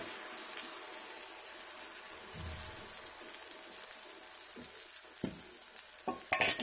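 Palak (spinach) omelette batter sizzles steadily in a pan, a quiet continuous crackle with a few louder pops and light scraping toward the end, no voices.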